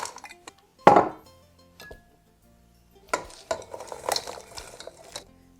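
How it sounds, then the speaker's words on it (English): Frozen sliced peaches being stirred in a large saucepan for peach cobbler, with a sharp scrape and clatter of utensil against the pan early on, then a longer stretch of busier stirring, clinking and scraping. "in a large saucepan, I'm going to stir together the peaches"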